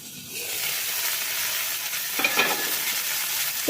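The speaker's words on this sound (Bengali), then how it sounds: "যেহেতু অল্প তেলেই আমি ভাজছি" Eggplant pieces fry in a small amount of oil for mustard-poppy-seed eggplant, giving a steady close sizzle broken by the scrape and clatter of stirring near the end.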